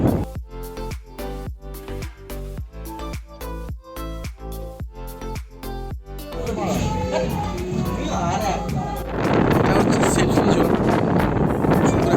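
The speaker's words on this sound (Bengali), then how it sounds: "দুপুরবেলা এত সুন্দর একটা হাওয়া দিচ্ছে" Wind blowing at a beach resort in Mandarmani: a rhythmic, music-like passage gives way to rising, gusty broadband wind rush that grows loud and fills the last few seconds.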